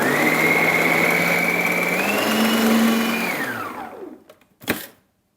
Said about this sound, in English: Sometimes when you're doing a food processor, it's good to scrape down the sides from time to time.